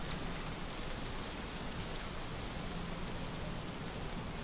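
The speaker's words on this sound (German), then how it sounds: "Hört sich auch irgendwie jetzt gerade ein bisschen nach Regen an." Rain in the video game DayZ makes a dense, even hiss of downpour that holds steady and fairly loud throughout, with no voices over it.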